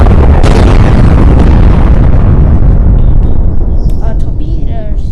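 A loud, close explosion in a video game bursts out with a huge roaring blast, then a long rumbling decay, and faint voices come in near the end.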